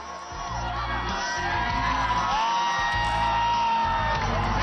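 A large festive crowd at a World Youth Day Mass with Pope Francis, cheering, whooping and shouting steadily, with someone speaking over it.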